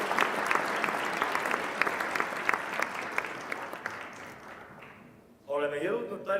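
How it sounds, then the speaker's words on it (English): An audience at a ceremony marking the 107th anniversary of the Republic of Estonia applauds steadily for about five seconds, then the clapping fades and a voice begins speaking over a sound system. "daamid ja härrad, aplaus. Ladies and gentlemen, applause."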